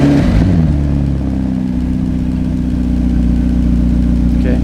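A McLaren sports car engine, on the cheapest McLaren ever sold and being rebuilt, runs loud and close, with a rough burst at the start settling into a steady, throaty idle.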